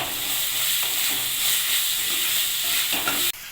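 Ground cumin, coriander, chili powder and chicken masala are stirred through in a hot pan, a steady close sizzle with light scraping strokes that cuts off abruptly near the end.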